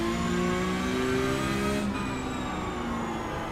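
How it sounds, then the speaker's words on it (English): A race car's tires scrub and squeal under steady engine drone in a racing video game, with tonal whines sliding downward, heard up close and continuous, with no voices. "If your tires are scrubbing more than they should, they will emit a noise."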